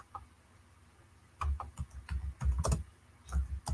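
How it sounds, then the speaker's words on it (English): Quick bursts of computer keyboard typing, a greeting being tapped out in irregular clusters of crisp clicks after a quiet pause, heard close up with no talking. "I was just typing a greeting."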